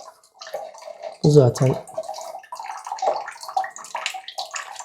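Water runs steadily from a tube or tap while a sample is prepared for an ICP test of marine aquarium water, a gentle continuous flow with a brief spoken word near the start.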